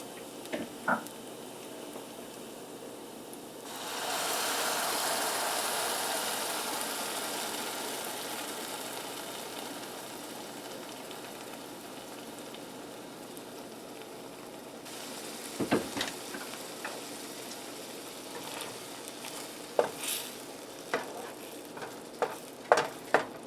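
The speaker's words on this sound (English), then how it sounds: "And we are refrying them." Refried beans hiss in a pan with caramelized onions for a Honduran breakfast, a broad sizzle swelling loudly for several seconds before dropping back, followed by scattered soft taps and scrapes.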